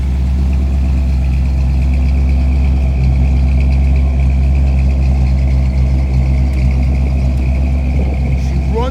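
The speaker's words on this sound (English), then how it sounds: "Listen to that 425 car." A 1966 Buick Riviera's 425 V8 runs at a steady, deep idle close by, a constant low rumble with no noticeable revving.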